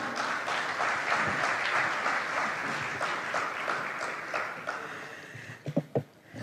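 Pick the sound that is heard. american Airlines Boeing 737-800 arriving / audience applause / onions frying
audience applause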